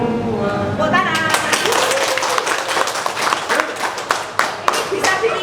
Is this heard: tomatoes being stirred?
no